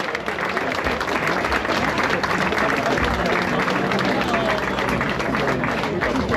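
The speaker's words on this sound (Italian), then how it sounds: "Fate un applauso forte" Loud, sustained applause from a large crowd at a Sardinian sports awards event, dense clapping filling the whole stretch with a steady roar and no pauses.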